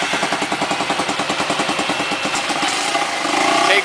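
A rented ATV engine cranks and catches, settling into a steady rhythmic chugging idle that grows slightly louder toward the end, heard up close and alone.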